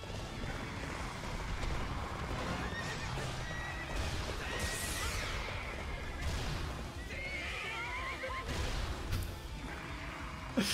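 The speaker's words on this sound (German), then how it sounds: "Dieser Kick, dieser Sprungkick am Schluss von dem Pferd ist super." The horse Epona whinnies repeatedly in Hyrule Warriors, mixed with galloping clip-clops, whooshes and heavy crashing impacts from a jump-kick, all loud and busy amid dense game battle effects.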